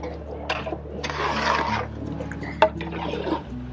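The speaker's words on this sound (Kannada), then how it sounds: "ಈಗ ಮಟನ್ ಹಾಕೊಂಡ್ಮೇಲೆ ನೀರು ಹಾಕ್ಕೊತಾ ಇದ್ದಾರೆ" Water added to a large catering pot of mutton for biryani, about two to three litres. It gives a short gushing pour lasting under a second, among clattering kitchen sounds and a sharp clank.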